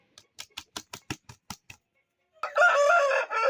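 A rooster in a cage gives one loud, close crow lasting about a second, preceded by a quick run of soft, evenly spaced tapping clicks and a brief silence.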